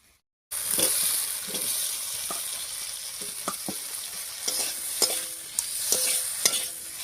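An egg mixture with onion and capsicum is stirred in a hot pan, with a steady close sizzle and repeated sharp scrapes and taps of the spoon throughout.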